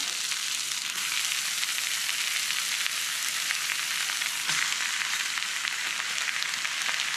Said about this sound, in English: I'm going to put my turkey on the side here. Get it hot.